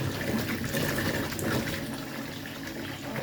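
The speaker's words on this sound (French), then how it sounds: "On met de l'eau." Water pours steadily and fairly loudly into a dish of pink radishes, a continuous splashing rush with no voices.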